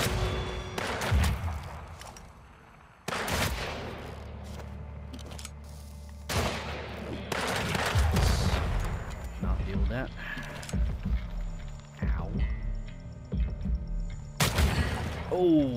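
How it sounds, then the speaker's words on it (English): Dynamite explosions and gunfire from the Weird West video game: sharp bursts of shots and booming blasts scattered across a busy combat scene, with mechanical clatter and game sound effects between them. "I think I got hit by that explosion."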